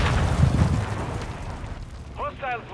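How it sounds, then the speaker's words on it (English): A cruise missile detonation in Call of Duty Modern Warfare II opens with a heavy, rumbling blast that fades into a low roar. A voice speaks briefly near the end. "Hostiles launched a cruise missile"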